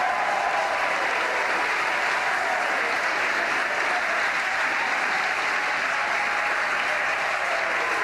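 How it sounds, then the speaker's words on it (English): A crowd at SpaceX cheers and claps in a steady, constant roar as a Falcon 9 first stage lands on a drone ship after a Crew Dragon launch. "the cheering in the background, they're getting video back of Falcon 9 first stage on drone ship"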